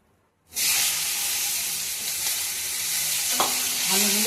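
Potatoes hitting hot oil just emptied of fried small puti fish burst into a loud, steady sizzle after a brief silence, with a few faint clinks of a utensil near the end.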